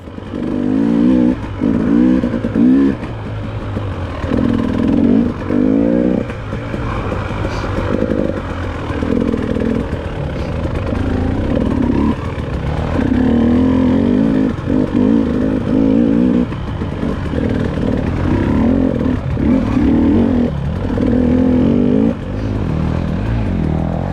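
Dirt motorcycles racing in a Hartsville hare scramble, a close rider's engine repeatedly revving and dropping in short bursts between shifts, with clatter and a steady throttle roar that continues throughout.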